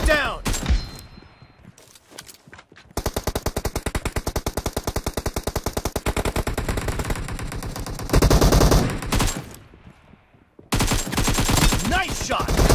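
Rapid automatic gunfire from PUBG Mobile arena combat, long bursts of loud, evenly spaced shots with short pauses between, heard alongside voice-over announcements.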